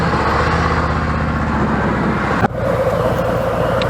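A motorcycle pulls away from a stop after a U-turn, its engine droning steadily and close, with a brief dip around the middle before the engine note picks up again; no talking.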